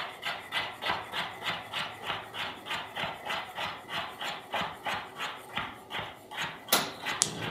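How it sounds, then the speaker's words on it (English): Knife cutting carrots on a cutting board into thin diagonal slices, a steady run of about twenty crisp, evenly spaced chops close up, with a slightly sharper knock near the end. "slice it at a diagonal in thin slices"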